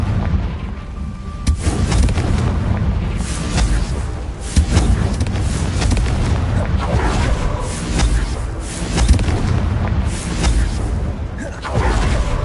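In the Hogwarts Legacy video game, the Confringo fire spell detonates with deep, rumbling booms that roll on continuously at close range, loud and dense, with no clear gaps.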